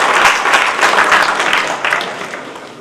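Audience applause at a Rajasthan merit award ceremony: steady, moderately loud clapping from a crowd, sustained throughout and tapering off slightly toward the end.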